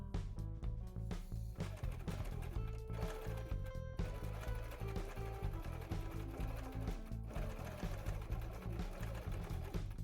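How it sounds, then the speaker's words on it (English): A sewing machine sews a bra seam on a mockup, running slowly in short bursts with rhythmic stitching pulses and faint tonal whine, starting and stopping throughout, alone and close. "when I finish the seam, it will sew that loop into place on each corner"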